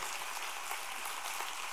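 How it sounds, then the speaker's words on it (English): A church congregation claps for first responders, a steady wash of applause heard faint and distant, with no voices over it. "deserves a bigger hand clap and standing ovation than that right there"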